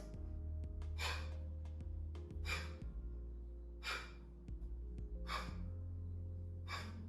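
Sharp, forceful exhales during a yoga core workout, about six breathy bursts spaced a second or so apart, close-up over a low steady background hum, with no talking.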